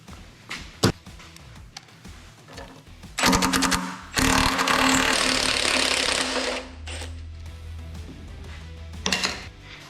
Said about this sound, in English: let's get all these bolts out, get the pan off